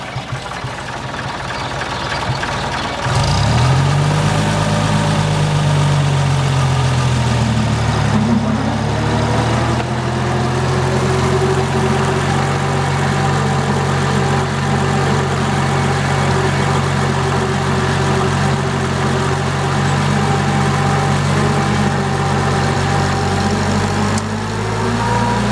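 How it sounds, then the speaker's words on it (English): An Oliver 770 tractor with a worn throwout bearing runs in a loud, steady low engine rumble, revving up after a few seconds and then holding a constant drone with a whining overtone, close by. "The throwout bearing is gone. See, it makes a lot of noise."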